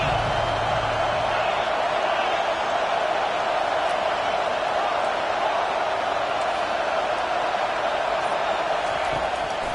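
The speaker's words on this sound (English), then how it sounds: "Decibels rising as the crowd gets behind this defense on 3rd down." A stadium crowd at a college football game against South Carolina roars steadily as the defense lines up on third down, a constant loud wash of noise with no breaks, while a broadcast voice talks over it.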